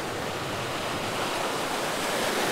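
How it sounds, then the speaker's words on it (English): Sea waves break on Ocean Park beach, a continuous loud roar of surf rushing close over the eroded sand, with wind and no voices. "Now the sea is here."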